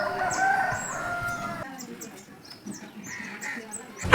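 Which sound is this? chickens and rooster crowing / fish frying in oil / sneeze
chickens and rooster crowing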